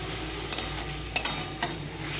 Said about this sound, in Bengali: একটু ভাজা ভাজা করে নিতে হবে নেড়ে চেড়ে এইভাবে